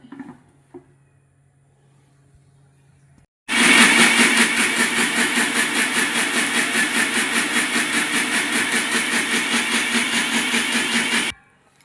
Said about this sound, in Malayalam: മൂടി കൊടുത്തിട്ട് ജസ്റ്റ് ഒന്ന് പ്രസ് ചെയ്ത് ഇനി നമുക്കതൊന്ന് അടിച്ചെടുക്കാം